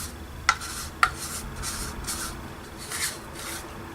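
Acrylic paint is scraped out of a container, heard as two sharp taps followed by soft, repeated rubbing and scraping strokes, quiet and close.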